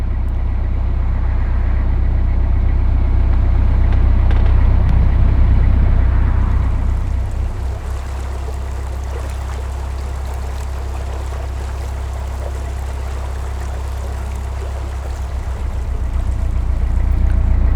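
A narrowboat engine cruising on the Bridgewater Canal, heard as a loud, steady low diesel rumble that dips slightly midway, with faint water wash over it and no talking.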